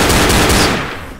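Rapid gunfire from a Left 4 Dead game session, aimed at and hitting the player: a dense, loud burst of overlapping shots that tails off after about a second.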